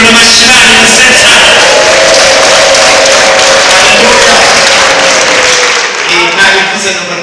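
Loud, sustained applause from a large crowd, dense and steady, with cheering voices mixed in, fading slightly at the end.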